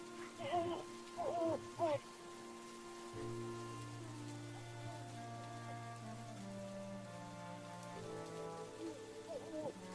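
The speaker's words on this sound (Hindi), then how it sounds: "लेकिन बारिश रुकने का नाम ही नहीं ले रही थी" Heavy rain falls in a steady hiss beneath a dark, droning horror score, with a hooting owl-like call and low tones, while a voice speaks briefly early on.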